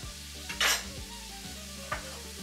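Butter sizzling in a cooking pot while being stirred for a pork spezzatino, a steady close frying hiss broken by two brief scraping strokes of the spoon.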